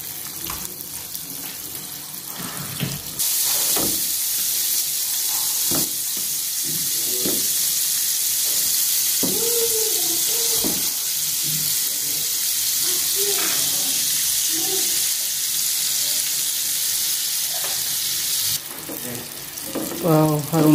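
Banana slices frying in margarine in a pan, a steady close hiss and sizzle with faint scraping of the slices being turned, with a little talk.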